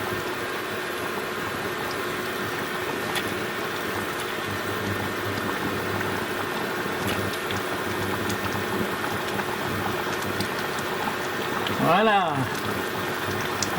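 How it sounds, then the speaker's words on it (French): Candied lemon and orange peel simmering in sugar syrup in a pot, working up to a hard boil: a steady bubbling hiss and roil throughout, with a person talking over it. "J'attends que ça bouillisse fort."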